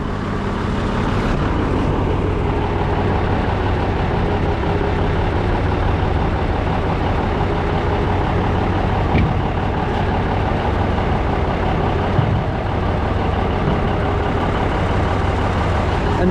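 Truck running with its hydraulics engaged on a Landoll trailer, a constant loud low rumble and hum with steady engine drone throughout, no clear changes in pitch.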